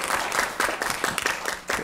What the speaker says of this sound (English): Big hand, round of applause for Chelsea.